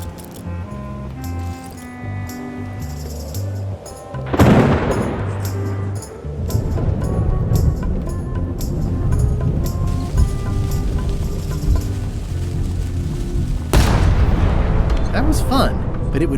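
A ship's cannon in the Return to Monkey Island video game fires two heavy booming blasts, several seconds apart, over a background of game music.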